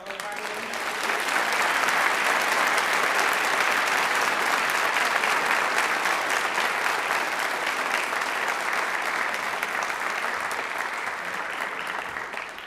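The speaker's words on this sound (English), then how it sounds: "I'd like to give a big round of applause for all of our new" An audience at a high school National Honor Society induction ceremony breaks into sustained applause, a dense wash of clapping that swells within two seconds, holds steady and slowly tapers, with no talk over it.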